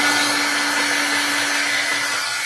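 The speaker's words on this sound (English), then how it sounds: "I'm gonna hit this with a blow dryer just for a minute." A blow dryer runs steadily up close, drying fresh orange paint on an art piece, with a constant broadband whoosh and a fixed motor hum throughout.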